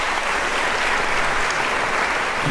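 Steady, dense applause from a crowd at a medical school white coat ceremony, a continuous wash of clapping at even loudness throughout, with no voices standing out.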